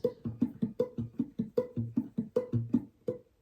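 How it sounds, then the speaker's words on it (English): Plucked guitar strings in a quick, steady fingerpicked pattern, each note ringing briefly over a repeating bass and higher melody. "that's me plucking the first string"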